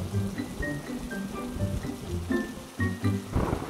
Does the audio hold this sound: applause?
no